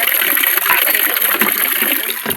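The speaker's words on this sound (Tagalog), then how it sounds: "Kusog ng agas tubig guys." A strong gush of water rushes close by, loud and continuous, filling the whole short moment with a dense roar.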